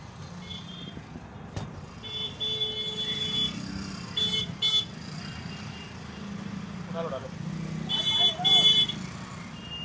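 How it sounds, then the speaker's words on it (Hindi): Congested traffic jam on a Mehrauli street in Delhi, with a steady rumble of idling cars, trucks and motorcycles, several short horn blasts and beeps cutting through, and people talking nearby. "यहाँ जाम लग रहा है भाई, जाम"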